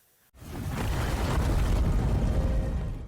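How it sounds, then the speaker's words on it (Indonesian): A huge explosion rocks a battlefield in an animated He-Man story, bursting in loud and sudden after a brief silence, then rumbling on as a sustained, deep roar of debris and fire. "sebuah ledakan dahsyat menghantam medan perang dan melukai mereka berdua"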